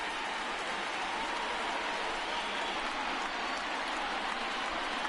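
Stadium crowd of about 42,000 in MLB The Show 19 roaring and cheering, a dense, steady wash of noise filling the whole stretch without pause.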